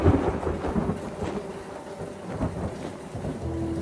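Steady rain falls through an evening scene in an animated cartoon, with a low rumble of thunder underneath and a faint tonal hum near the end; no voices.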